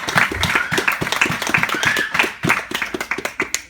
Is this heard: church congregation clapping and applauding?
yes